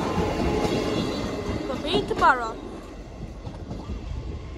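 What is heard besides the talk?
train passing at a level crossing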